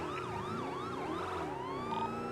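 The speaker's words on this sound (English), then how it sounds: "Make sure your sirens are on" Police car sirens in the NoPixel game, several overlapping wailing and yelping tones sweeping up and down continuously, loud and close with no talking.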